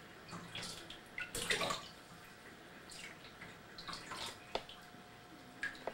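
Bath water runs and splashes as a child plays in it at home, with faint drips and soft sloshing, quiet and close, with no talking.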